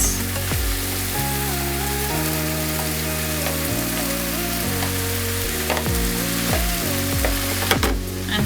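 Kimchi and rice fry in a hot pan with a steady, close sizzle that runs the whole time beneath prominent background music.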